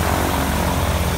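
A light propeller airplane at a gliding club in Jeddah produces a loud, steady engine drone that fills the whole moment without a break, close by.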